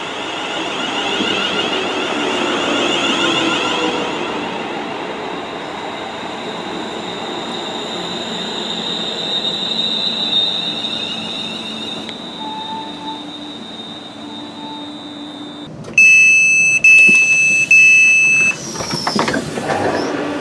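A Northern passenger train rumbles steadily for a long stretch and slows as it arrives at Rugeley Trent Valley station. Wheels squeal at high pitch and brakes hiss, with sharp clanks near the end as it stops.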